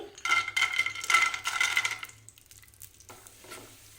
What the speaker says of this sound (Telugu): క్యాషూ నట్స్ వేయించుకోవాలి కదా చాలా బాగుంటాయి నెయ్యిలో వేయించుకుంటే